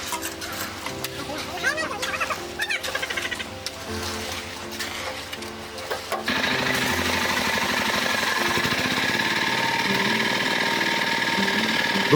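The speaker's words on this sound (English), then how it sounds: "Each hop presses strongly onto the ground, compacting the sand layer below, making the foundation firm and ready for the next steps." A tamping rammer pounds a sand layer for a foundation, loud rapid mechanical thumping with an engine drone, irregular at first, then a sustained steady hammering.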